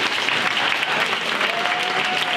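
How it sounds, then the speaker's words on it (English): A dense roar of audience applause for debaters after a competitive debate round, sustained and even, filling the room from start to finish. "Let's give him an applause."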